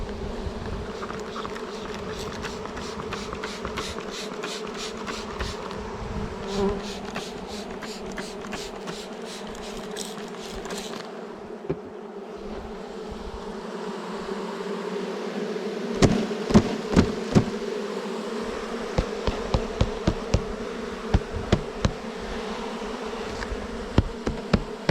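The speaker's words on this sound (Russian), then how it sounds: "Жужжат пчелки." Honeybees buzz steadily around an open hive during a colony check for mites, a continuous close drone with faint clicks and knocks from handling the frames, growing slightly louder toward the end.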